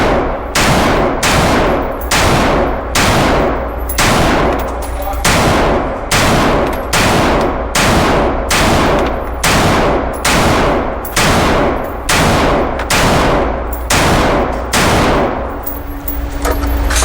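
A Watchtower Type 15 NSRO limited edition rifle fitted with a muzzle brake fires a long, steady string of loud, evenly spaced shots, each a sharp crack with a ringing tail, about one per second.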